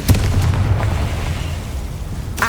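A Confringo fire spell from the Hogwarts Legacy video game bursts with a loud opening boom, then a sustained rumbling roar that fades over a couple of seconds, with a second sharp blast at the end.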